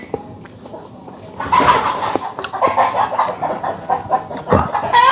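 A chicken clucks in a home yard, repeated agitated clucks and squawks close by, starting after a quiet moment and continuing in an uneven burst.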